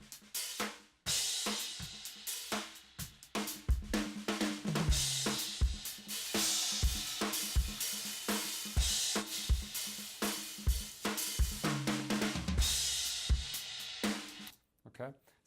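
A drum kit overheads mix with no limiter, full of bright cymbal wash and punchy hits, playing a steady groove for about fifteen seconds before stopping abruptly.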